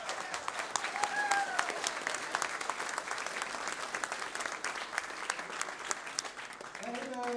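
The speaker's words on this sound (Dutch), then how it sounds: "Dus geeft u even applaus." An audience at a Dutch outsider-art television broadcast breaks into sustained applause, crisp and even in rhythm, fairly quiet overall, with a brief tonal sound near the end.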